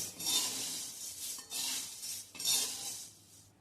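Dry flattened rice (poha) is stirred and roasted in a wok, giving three swelling bursts of rustling, scraping hiss as the spatula sweeps through, close up with no talking.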